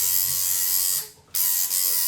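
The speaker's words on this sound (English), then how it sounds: "I get this needle in and I'm playing with it, and you hear how it's cutting out?" A tattoo machine with a needle fitted buzzes in a steady high electric whine, then cuts out abruptly for a moment before starting up again and briefly faltering once more, with no talk over it.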